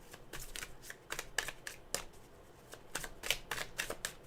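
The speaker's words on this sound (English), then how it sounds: "Let's shuffle the cards over here." Tarot cards are shuffled by hand close up, a quick series of crisp riffling flutters in short repeated bursts.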